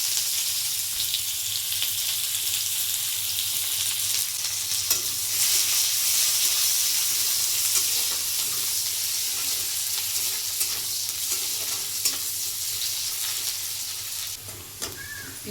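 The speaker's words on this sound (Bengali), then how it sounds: "পেঁয়াজ কুচি দিচ্ছি" Chopped onions frying in hot oil in a wok, a loud, steady sizzle with stirring scrapes running continuously from start to end.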